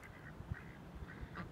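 Ducks quack outdoors in bad weather, a few faint, short calls spaced irregularly over a quiet background.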